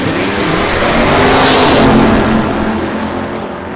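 Drag racing wagons, a Ford and a Mopar, accelerating hard down the strip in a final-round run; loud continuous engine roar that swells and holds, close and unbroken, with no talk over it.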